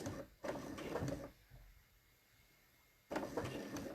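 A sewing machine stitches fabric while binding a V neckline, with two short runs of rapid, rhythmic stitching separated by a quiet pause, close and fairly soft.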